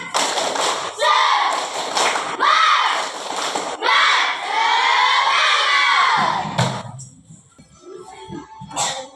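A room of fifth-grade primary school pupils in Tolitoli clap and shout a class spirit chant together, loud and close, in repeated rhythmic bursts, then the chanting stops and a few scattered claps and thumps follow.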